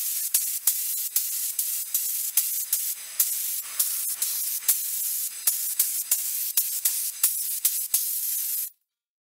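Spray gun shooting a seal coat onto mid-century modern chairs: a rapid series of short, sharp hissing bursts in steady rhythm, close and loud, stopping abruptly at the end.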